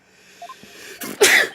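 A single sharp sneeze bursts out loudly near the microphone during a livestream, preceded by a brief inhaled build-up and ending abruptly.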